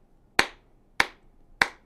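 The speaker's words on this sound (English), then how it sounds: "When I clap my hands," Three sharp hand claps ring out one after another at an even pace, crisp and close, each with a short decay into near silence.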